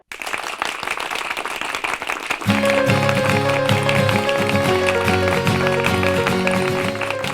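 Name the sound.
audience applause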